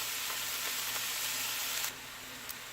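Chopped vegetables and celery sizzling in a Ninja cooker as they soften for chicken noodle soup, a steady bright frying hiss that drops quieter partway through, with no talk.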